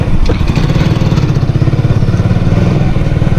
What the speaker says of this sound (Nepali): साइलेन्सर यसको ओरिजिनल साउन्डै दामी लाग्छ मलाई